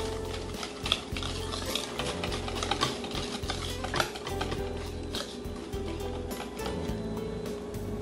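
Flour and water batter for puto being stirred briskly in a bowl, utensil scraping and clinking in a continuous rhythmic pattern, close and fairly loud, with no voices.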